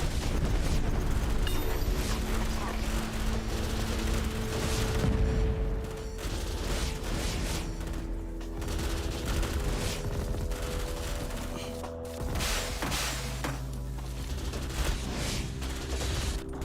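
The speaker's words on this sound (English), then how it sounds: "Fires the missiles." Missile barrages firing in the real-time strategy game Rogue Command, a loud, dense run of overlapping launches and explosive bursts that continues without a break over tonal in-game music.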